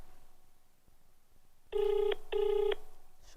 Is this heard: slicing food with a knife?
no